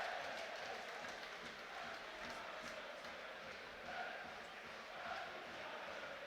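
A football crowd at a Wrexham v Charlton Athletic match applauds and murmurs as a player comes over to the fans, a distant, steady stadium roar of clapping and voices with gentle swells.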